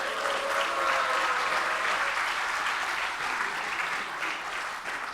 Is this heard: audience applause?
yes